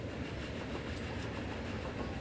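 A passenger train in Transport Fever rumbles along the track with a steady low roll and faint rhythmic clatter, moderately distant and continuous, with no voices.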